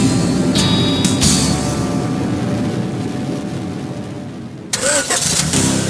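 Car engine starting and revving in a GTA Vice City radio advert: a starter whine and catch, then a steady rumbling idle with a burst of revving near the end, loud and without talk.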